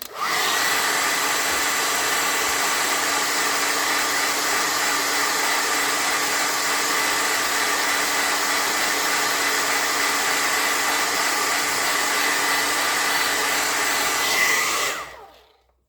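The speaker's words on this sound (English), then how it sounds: "Just gonna give this a quick blow dry." A hair dryer blows steadily on a fresh coat of paint on a handmade unicorn spirit doll, one loud continuous whooshing drone that runs alone for about fifteen seconds before cutting off.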